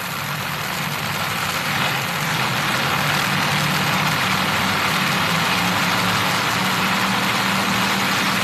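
Two top fuel dragsters sit idling at the starting line of a drag strip at the 1978 NHRA Summernationals, a loud, steady, thick engine drone with a low throbbing hum running unbroken throughout.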